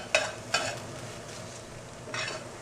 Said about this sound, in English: now I'm going to add my collards. I'm just going to mix them in and let them get nice and soft